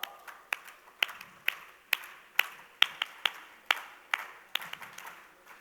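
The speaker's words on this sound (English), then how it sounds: "I need you to clap the loudest" A convention audience claps in unison on cue, giving about a dozen sharp, separate claps in a steady rhythm, with faint scattered clapping between them and no talking.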